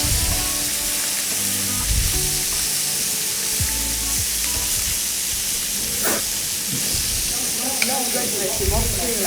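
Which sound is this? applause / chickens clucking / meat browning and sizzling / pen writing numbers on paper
meat browning and sizzling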